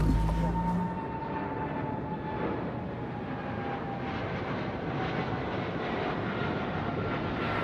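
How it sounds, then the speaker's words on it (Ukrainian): An Antonov An-225 Mriya, the world's largest transport aircraft, rumbles with a broad, steady engine roar that holds at a constant level throughout. "Найбільший та найпотужніший у світі транспортний літак."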